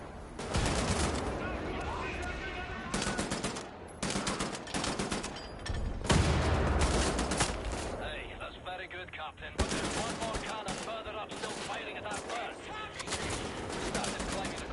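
Repeated bursts of gunfire in Wolfenstein: The New Order on PS4, dense and loud through most of the stretch with short gaps, mixed with game effects and some talking.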